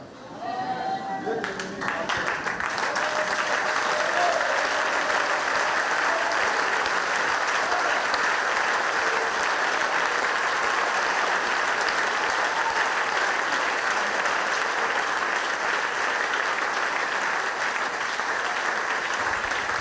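A church congregation applauds together in a sustained, dense wave of clapping that swells quickly and holds steady and loud throughout, with a few voices mixed into the crowd noise.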